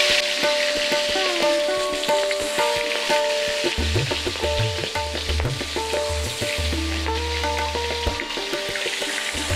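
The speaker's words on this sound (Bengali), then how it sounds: "মাথা দিয়ে রান্না করলে মাথাটা আগে ভেজে নেব" A fish head sizzles steadily as it fries in oil in a wok, the first step of a Bengali fish-head ghonto with taro. The frying is close and continuous, with no voices.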